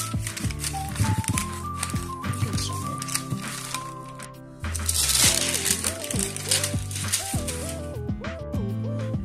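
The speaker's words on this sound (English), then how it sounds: "you gotta take your scissors and cut the tape out just like this" Scissors snip through tape on parchment paper while making homemade stickers, giving repeated crisp cuts and crinkles over steady background music.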